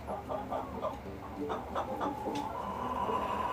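Meat chickens clucking close by in short, irregular bursts over a low steady background hum.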